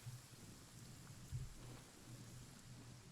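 Rain and rolling thunder in the video game Genshin Impact. A steady, quiet patter of rain sounds with low thunder rumbles swelling at the start and midway.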